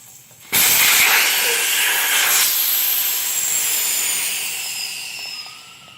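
Air bursts in a loud, steady hiss from a scooter tire on a Tao Tao Lancer GY6 once its valve core is pulled, sharp onset, then slowly fading over several seconds without talk.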